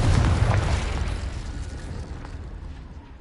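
A Confringo spell detonates in Hogwarts Legacy with a loud, booming blast that starts strong and rumbles away into a fading roar over about three seconds, with no voices.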